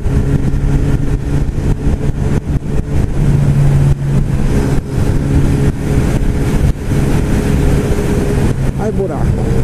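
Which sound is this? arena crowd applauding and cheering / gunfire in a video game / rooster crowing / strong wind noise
strong wind noise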